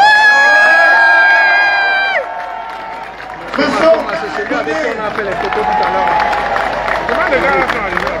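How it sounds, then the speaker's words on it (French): A crowd claps and cheers, rising after a sustained tone fades, with voices and whoops mixed into the steady applause. "Monsieur Masso Marco, je vais demander d'applaudir très fort."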